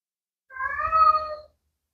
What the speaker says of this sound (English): Oh, you might hear my cat Gavin.